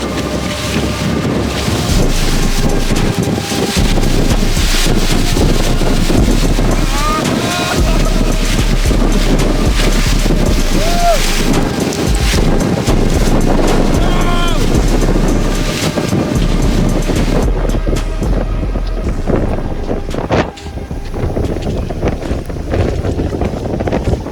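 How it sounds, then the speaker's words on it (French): Strong gusts of winter wind roar and buffet the microphone continuously on Mont Eudore-Fortin, Québec, loud and close, with rustling movement underneath. "Il y a un peu de vent, je pense!"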